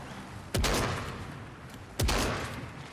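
Two big, booming cannon shots from a video game, spaced about a second and a half apart, each with a sharp attack and a long rumbling decay, with no speech over them.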